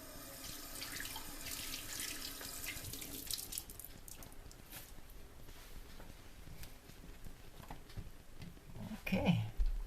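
Water runs steadily from a tap for several seconds, a close hissing splash, with some clattering near the end.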